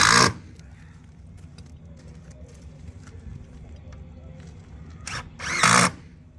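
A power drill drives screws into aluminum window trim outdoors, with short high-pitched whirring bursts at the start and near the end and a low background rumble between them.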